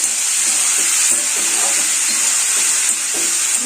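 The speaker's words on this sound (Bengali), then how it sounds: "আলুটা ভাজা বসিয়ে আগে খাটটা গুছিয়ে" Potatoes fry in a pan with a steady, bright sizzle and faint stirring clinks running close and loud throughout, no voices over it.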